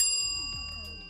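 A single bell-like ding rings out and slowly fades away.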